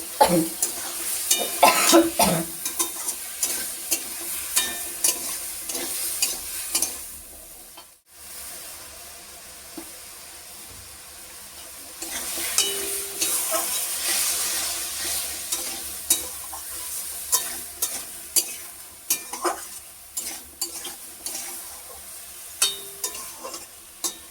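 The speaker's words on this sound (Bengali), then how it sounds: "এবার সবজিগুলো দিয়ে একটু কষিয়ে নেব।" Vegetables are stir-fried in a hot pan with a steady sizzle, broken up by repeated scraping and stirring knocks. A brief cough and some faint background voice can be heard.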